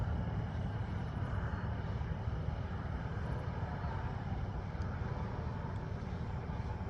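DJI Phantom 4 Pro V2 quadcopter climbing under throttle: a steady, dense motor and propeller drone with broadband rushing noise, held at constant loudness through the whole stretch, with no talk.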